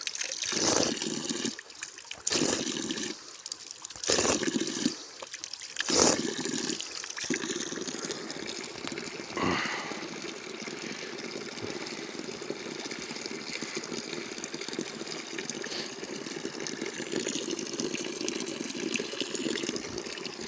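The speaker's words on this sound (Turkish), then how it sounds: "güzel bir su akıyor." Spring water flowing steadily outdoors in open countryside, a continuous close trickle and gush with brief louder splashes early on, heard alone without talk.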